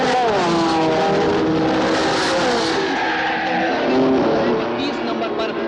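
Race cars speed past in a race, engines roaring loud and continuous with rising and falling pitch sweeps and some tyre squeal, while voices talk over the din.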